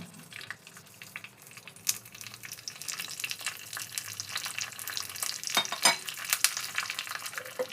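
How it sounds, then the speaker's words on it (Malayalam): Mustard seeds, dried chillies and curry leaves fry in hot oil for a tempering, a close, crackling sizzle with sharp popping bursts that grows louder and busier toward the end. "നമുക്ക് കടുകും മുളകും കറിവേപ്പിലയും കൂടെ വറുത്തിടാം കേട്ടോ."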